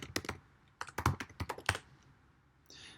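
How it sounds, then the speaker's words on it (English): Keystrokes on a computer keyboard while coding a Python game, crisp close clicks in uneven bursts with short pauses, ending in a brief soft rustle. "if I am touching my keyboard, nothing is moving"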